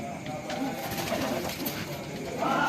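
Small racing pigeons coo in low, soft bursts close by, with people talking over the cooing in a loft setting.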